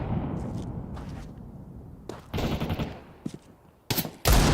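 Desert Eagle pistol shots in the video game Counter-Strike, heard in a professional match: several sharp reports spaced across a few seconds over continuous game background noise, with the loudest shots near the end.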